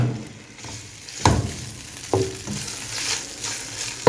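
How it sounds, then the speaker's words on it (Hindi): Chopped garlic and marinated chicken fry in a pan with a steady close sizzle, broken by several sharp spatula scrapes and stirring clatters; no one speaks. "यहाँ मैं चॉप्ड गार्लिक डाल दूँगी इसमें और इसको सेकंड पे फ्राई करेंगे।"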